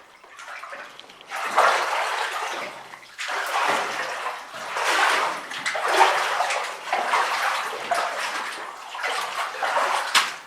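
Water sloshing and splashing in repeated surges as someone wades through deep water inside the old granite Seattle Cascade Mine, with a collapsed timbered section nearby; steady, close wading strokes with no talk.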